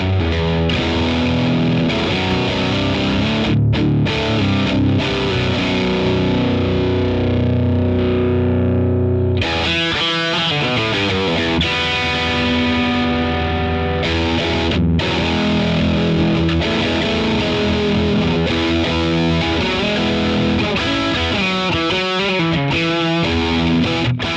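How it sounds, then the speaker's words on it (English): Loud, gritty boosted electric guitar through an Origin Effects DCX boost pedal, playing continuous chords and riffs, thick and saturated, with a brief break partway through. "It kind of has that grittier sound to it, more direct sound to it than a fuzz pedal"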